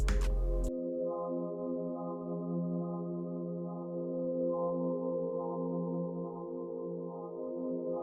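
A sustained synth pad preset with all effects engaged in an ambient melodic beat, a brief bright burst at the start giving way to a smooth, steady chordal drone of layered tones that holds evenly throughout.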